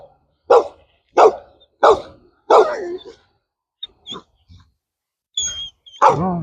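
Dogs bark outdoors in a run of loud, close, evenly spaced woofs, then pause for a few softer yips and a whimper before barking resumes at the end.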